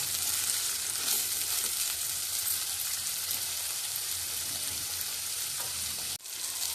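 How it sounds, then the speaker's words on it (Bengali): Onion and green chilli fry in oil with fish oil, turmeric and salt for shorshe ilish, giving a steady, close sizzle with faint stirring and no talk. "এবার হলুদ আর নুন দিয়ে একটু ভেজে নেব"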